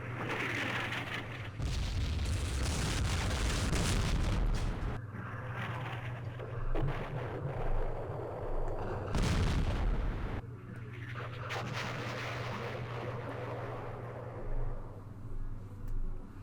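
Artillery fire in the Campaign Series Vietnam video game: repeated heavy booms and rumbling blasts, some close and loud, others more distant, with no talk.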